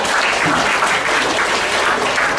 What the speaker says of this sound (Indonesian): Oke, aplaus dong buat Andika.